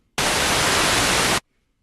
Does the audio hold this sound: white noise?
yes